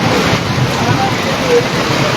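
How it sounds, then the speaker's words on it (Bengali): Dense, steady rush of heavy storm rain pouring down at a temple, a continuous loud wash of noise with no pauses. "ঝড় বৃষ্টির যে তাণ্ডব হচ্ছে এখন সেটাই মূলত দেখাচ্ছি"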